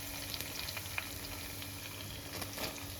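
Onions sizzle softly in a pan for a sardine fish curry, a steady faint crackle and hiss with small pops scattered throughout, no talking.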